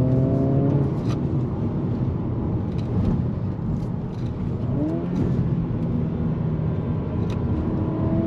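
Engine of a 2023 Acura Integra sport compact pulls under throttle, a steady droning rev that climbs in pitch, heard from inside the car.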